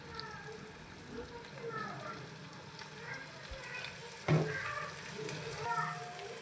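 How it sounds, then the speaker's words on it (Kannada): Chopped onions sizzle and fry steadily in a hot pan, with a continuous hiss and occasional clinks of stirring, while a voice talks over the cooking. "ಇದು ಸ್ವಲ್ಪ ಫ್ರೈ ಮಾಡ್ಕೋಬೇಕು"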